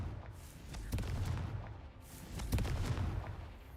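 In a video game, Confringo blasting spells explode as several sharp, booming blasts at irregular intervals, set against a continuous low rumble of game ambience.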